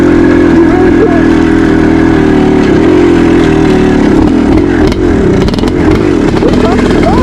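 A 1974 Suzuki TM400 two-stroke motorcycle engine runs loud and close throughout, holding a steady drone and then swinging up and down in pitch as the throttle is worked in the later seconds.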